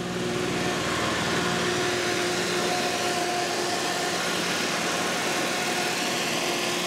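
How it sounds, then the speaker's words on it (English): A barn-find BMW engine running too rich and idling too high, a continuous loud buzzing drone with faint whining tones, unchanging throughout, no voices. "So then, why are we still idling way too high?"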